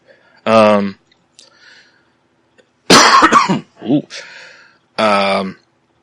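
Several harsh, close coughs come in separate bursts with silent gaps between them, one followed by a short throaty sound.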